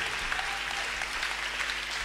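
A church congregation claps steadily during a Sunday service, a dense, even wash of applause from many hands that sounds moderately distant and lasts the whole stretch.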